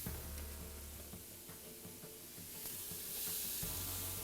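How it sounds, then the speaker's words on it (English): Diced onion hits hot oil in a pan and sizzles with a steady hiss, with some clatter of handling under it and a slight swell toward the end. "Sizzle incoming."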